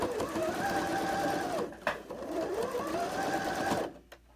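A sewing machine stitches fabric in quick rapid bursts, whirring loudly with a short pause midway and stopping near the end, heard close up without talk.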